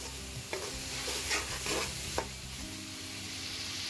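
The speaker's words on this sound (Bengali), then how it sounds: "এই সব কিছু আমি ভালো করে নেড়ে নিচ্ছি আর ভুনা করে নিচ্ছি" Mixed spices for a Bengali-style rohu fish curry are stirred and fried in a pan, with a steady sizzle and a few sharp scrapes of the spoon against the pan. No one speaks.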